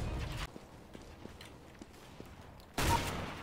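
Gunfire from Counter-Strike: Global Offensive comes as two loud bursts of rapid shots at the start and end, with faint thuds and game ambience between them.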